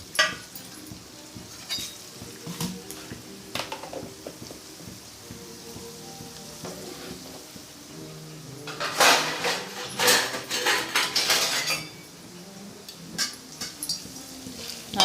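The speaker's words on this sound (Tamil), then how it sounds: "நல்லா கோல்டன் ப்ரௌன் கலர் வர வரைக்கும் வதக்கிக்குவோம்." Chana dal sizzling and being stirred in a pan for a Tamil lentil chutney, a soft steady crackle with occasional scraping and a louder burst of spatula stirring midway, no talking.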